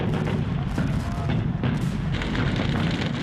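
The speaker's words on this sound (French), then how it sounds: "Mais les canons allemands sont là." German artillery guns fire on invasion beaches, a dense, continuous roar of booming blasts and rumbling detonations that stays loud throughout.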